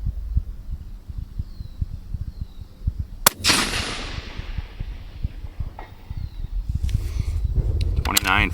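A single sharp rifle report from a .22 Nosler firing a handloaded 80-grain ELD bullet, one loud crack with a rolling tail, amid low rumbling background and brief talk.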